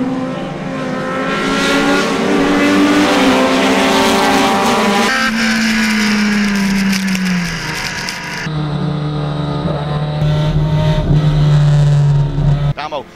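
Race cars, including a Honda S2K, drive a wet track in a rain race, engines droning loudly with shifting pitch as cars pass close. A commentator talks over the engines throughout.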